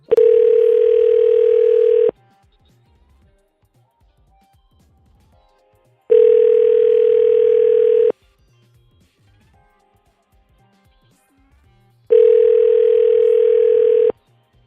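Three long steady telephone tones, about two seconds each, separated by quiet gaps, sound while a call is placed to Senator Tuberville's office; loud and clear with no talking over them.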